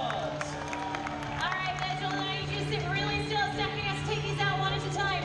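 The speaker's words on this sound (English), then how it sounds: "Give him a round of applause." An audience at a live stunt show claps and cheers after a performer completes a scorpion stunt, a dense burst of applause mixed with shouts and chatter over a steady background hum.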